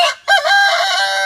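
A backyard rooster crows loudly and close by, one long sustained crow that follows a brief pause, with hens around it and no talking.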